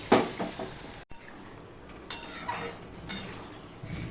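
Spices tempering in hot oil for a gathi kochu (taro) curry: an initial crackling burst, then a steady low sizzle with occasional clinks of a utensil against the pan.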